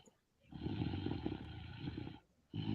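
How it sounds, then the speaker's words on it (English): A man snoring heavily during a basketball podcast, two long rough, rumbling breaths with a brief pause between them, loud and close, with no talk over it. "somebody's snoring"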